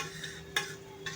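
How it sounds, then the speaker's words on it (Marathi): A ginger, garlic, coconut and onion paste stirred and roasted with spices in a pan for a pomfret gravy, soft scraping with a few sharper clinks of a spoon against metal over a faint hiss. "आणि हे वाटण छान असं या मसाल्यांसोबत भाजून घ्यायचं आहे"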